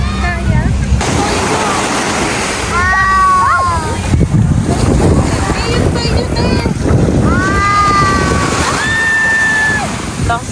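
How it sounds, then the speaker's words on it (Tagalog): Strong sea waves surging and washing onto a sandy beach at Puerto Galera, a steady wash with wind buffeting the microphone and excited voices calling out and whistling over the surf. "Lakas ng alon."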